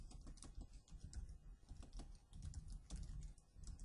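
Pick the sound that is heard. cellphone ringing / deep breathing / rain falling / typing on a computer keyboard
typing on a computer keyboard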